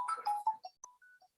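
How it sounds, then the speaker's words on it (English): A mobile phone ringtone plays a short run of bright melodic electronic tones, clear and fairly close, with no talking over it. "Oh, my phone is ringing."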